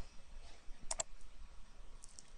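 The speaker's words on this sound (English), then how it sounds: "Then when I click Save," A computer mouse clicks on a Save button: a quick pair of faint, sharp clicks close together against quiet room noise, with a softer tick shortly after.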